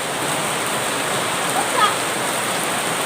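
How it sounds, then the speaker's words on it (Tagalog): Heavy tropical downpour roars as a loud, dense, unbroken wash of rain, close and steady for the whole stretch, with a faint brief voice-like sound briefly audible beneath it. "Grabe ang ulan."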